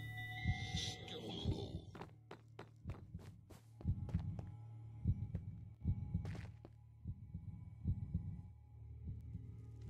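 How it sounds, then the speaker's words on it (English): A fast heartbeat pounds in the Minecraft map Decked Out 2, a quick run of deep thumps in pairs at a steady pace, up front and loud, with a few clicks mixed in. "That heartbeat sounds really fast right now."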